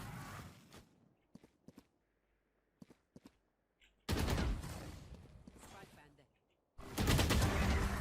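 Gunfire in the Valorant video game: a few sparse sharp clicks and shots at first, then two long, loud, dense bursts of rapid gunfire.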